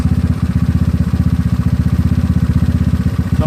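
A GY6 scooter engine fitted with an OKO PWK 30mm carburetor runs close and loud, its rapid even pulsing chug holding steady at idle throughout.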